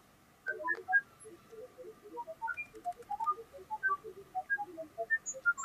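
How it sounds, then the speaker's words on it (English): An empty gamma spectrometer's pulses are rendered by pulse analyzer software as scattered short pitched beeps, irregular and faint, each tone height set by pulse height, over a low background hiss. "So that's what the empty spectrometer sounds like."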